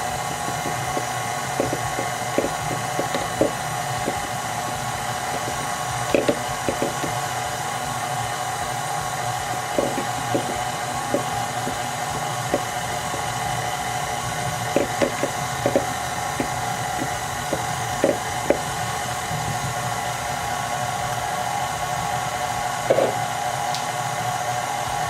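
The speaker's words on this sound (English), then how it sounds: "I'm going to stop my mixer once again because I want to scrape off the sides as best I can" An electric mixer beats banana nut bread batter, giving a steady, loud whirring drone broken by occasional light clicks and knocks as the beaters hit the bowl, with no talking.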